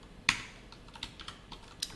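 HTML and CSS code typed on a computer keyboard, six or seven quiet, uneven key clacks close by, with one sharper stroke near the start.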